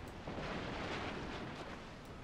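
Cannon fire in the samurai-era strategy game Shogun 2: Total War, a dense, roaring blast of booms and rumbling crackle that fills the whole short stretch with no voices.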